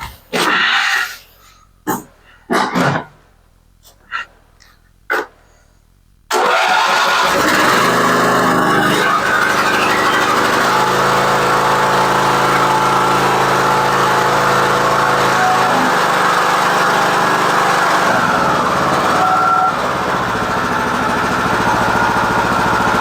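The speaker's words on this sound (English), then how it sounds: "Now that's the way a mower's supposed to start." A Briggs OHV lawn mower engine, repaired after a busted compression release and cam replacement, cranks in a few short pulls, then fires and runs at a loud, steady drone for the rest of the stretch.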